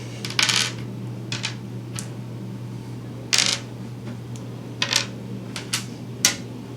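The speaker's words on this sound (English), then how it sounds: "Let's give people their dice." Dice for a Sky Traders board game handed out to players, heard as several separate sharp clattering drops and clicks of plastic dice on a table, spaced irregularly over a steady low background hum.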